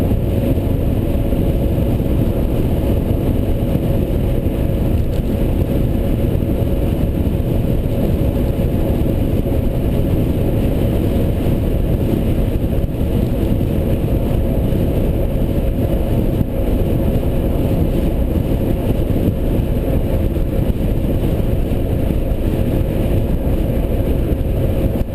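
An electric car conversion with an upgraded DC controller climbs a grade at three-quarter-plus throttle, running near 75 mph. A loud, unbroken drone of road and wind noise fills the cabin without pause.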